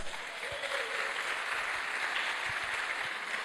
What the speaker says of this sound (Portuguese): Vamos aplaudir a Jesus pela diaconia Radicais?